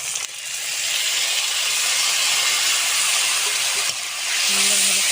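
Spice masala with turmeric, salt and grated tomato sizzles in hot oil in a pan, a loud, continuous frying hiss that dips briefly near the end before swelling again.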